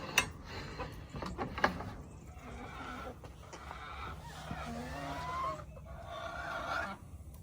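Frizzle chickens cluck and murmur nearby in a yard, scattered soft clucks and calls with a few sharper squawks, heard alongside light handling noises and faint background sounds.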